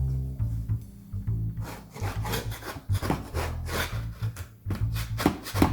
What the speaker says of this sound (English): coax them out with a utensil. Maybe a little wooden spatula.